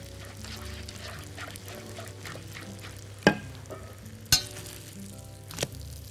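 Sizzling food stirred in a hot pan while cooking beef dishes, a steady low frying hiss broken by three sharp scrapes of the utensil against the pan.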